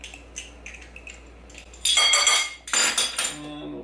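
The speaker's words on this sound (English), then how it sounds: "And we'll just mix that again." A utensil mixing keto recipe ingredients in a bowl, with soft scrapes building into loud bursts of metallic clinking and rattling against the dish, close and busy.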